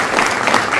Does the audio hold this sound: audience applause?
yes